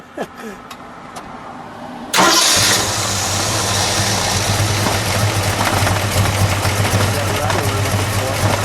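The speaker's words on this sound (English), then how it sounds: "All right, let's fire it up." A 1973 AMC Javelin with a 401 V8 cranks and catches abruptly, then settles into a loud, steady, rumbling idle after a few seconds of quiet handling noise.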